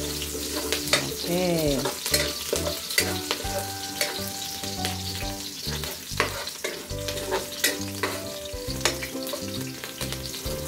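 Beef, onion and garlic sizzle steadily in a hot pan, with repeated clinks and scrapes of a utensil stirring throughout and a brief spoken word.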